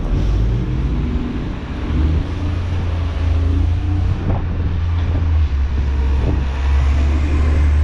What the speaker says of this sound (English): It's fairly breezy.